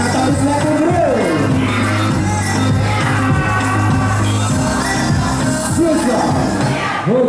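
Loud crowd cheering, shouting and whooping at a bodybuilding contest in Banjarmasin, a dense continuous roar of voices with scattered yells and some clapping, over steady low background music.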